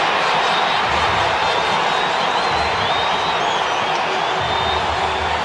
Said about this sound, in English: Doesn't the crowd enjoy that?